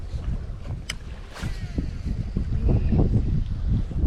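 Wind blows outdoors during a fishing reel casting test with a Shimano Bass One XT baitcaster, a steady rushing noise across the whole stretch with a brief whizzing reel or line sound early on, and no talking.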